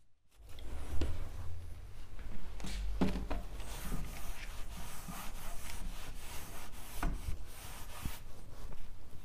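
Rubbing and wiping strokes across the surface of a seventies wooden sideboard being dusted before painting, close and fairly quiet, in uneven repeated passes with occasional light knocks.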